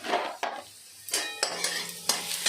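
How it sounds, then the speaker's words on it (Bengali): Potatoes fry in a kadai with a bright, crackling sizzle, broken by sharp scraping strokes of a spatula at fairly regular intervals, close and clear with no talking. "কড়াইতে আলুটা ভাজা হচ্ছে"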